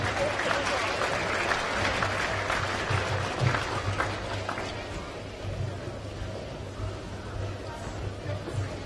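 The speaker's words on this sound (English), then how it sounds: "Why don't you give them a large round of applause?" Arena crowd at a women's basketball grand final clapping for young Aussie Hoops participants, loud applause with crowd chatter mixed in, gradually thinning and easing off.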